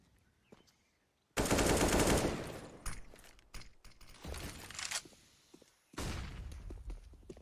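Bursts of automatic gunfire in Counter-Strike on the Inferno map during a professional match, a long loud rattling burst followed by shorter volleys and quieter clicks between them.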